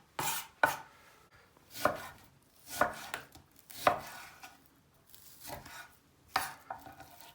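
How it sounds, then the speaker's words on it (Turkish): A knife chops onion and carrot on a board in steady, separate strokes, about one per second, crisp and close with no voices. "Soğanımızı, havucumuzu doğrayalım."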